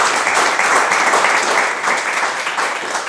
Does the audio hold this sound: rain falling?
no